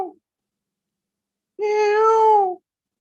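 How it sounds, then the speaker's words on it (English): A peacock gives one long, loud, wailing cry of about a second, alone and close, with a short clipped sound just before it. "there you hear the peacocks crying"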